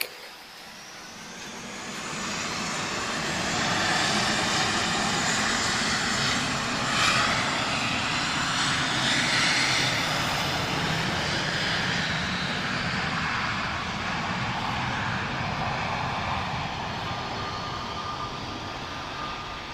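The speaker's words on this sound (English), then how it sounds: "We are going to get another heavy departure now." An Airbus A330 heavy jet airliner departs Lisbon airport with a loud, sustained engine roar that swells within the first seconds and holds strong, hissing and rumbling alone without talk.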